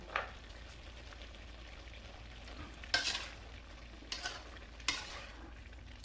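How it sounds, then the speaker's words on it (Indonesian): Mushrooms stirred into a thickened spice paste in a pan, a few scraping spoon strokes standing out over a faint, steady sizzle, with no talking. "kita masukkan jamur tadi. Ini kita masukkan. Kita aduk dulu."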